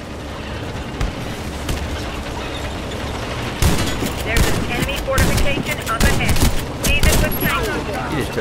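Rapid bursts of automatic gunfire in the online shooter Warface, loud and dense, with overlapping volleys that grow heavier midway and keep crackling to the end.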